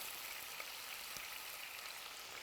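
Chopped onions sizzle steadily in a hot pan, a faint, even crackling hiss with no voices.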